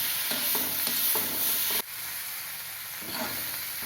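Bitter gourd and tomato sauté in a pan, steady sizzling hiss broken by rhythmic spatula scrapes that stop partway, then one more stir near the end.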